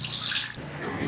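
Running water rinsing freshly washed dishes, a brief close splashing and trickling stream with some higher hiss, no talk.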